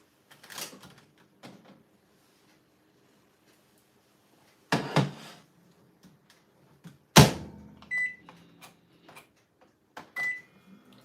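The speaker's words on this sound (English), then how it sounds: "I'm just gonna pop this in the microwave a little" A microwave oven in a home kitchen where apple cinnamon muffins are being made: scattered clunks and clicks of the door and controls, then two short, high electronic beeps near the end, with quiet gaps between.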